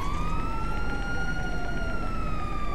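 Police car sirens wail continuously in GTA 5, a steady rising-and-falling electronic tone over a dense, noisy backdrop of game action, loud and close throughout with no voices.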